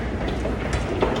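A train rolls along the rails with a steady low rumble and faint rhythmic clatter, heard from inside the carriage, moderate and continuous.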